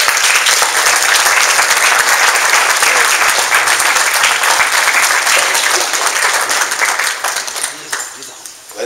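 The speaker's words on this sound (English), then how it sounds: "Give them a round of applause." A room full of people at a business networking relaunch event applauds the ambassadors called to the front, loud, dense clapping that holds steady and then thins out and fades near the end.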